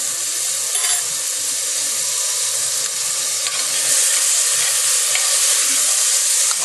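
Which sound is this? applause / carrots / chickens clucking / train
carrots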